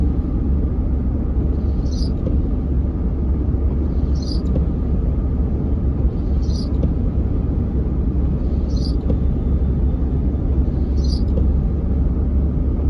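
Steady, loud road rumble from inside a car driving through the small town of Corona, with a constant engine and tire drone and faint high ticks repeating about every two seconds, no talking.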